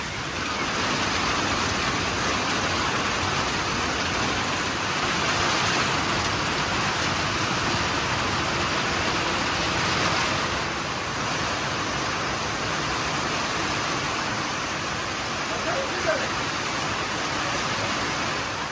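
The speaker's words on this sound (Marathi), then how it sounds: "पाऊस मात्र खूप जोरामध्ये चालू झाला" Heavy rain pouring down steadily at a campsite, a loud, unbroken wash of noise that holds constant throughout with no pauses.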